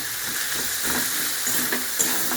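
Masoor dal mutton with chopped green chillies being stir-fried in a pan, giving a steady close sizzling hiss with faint stirring scrapes throughout, no voices.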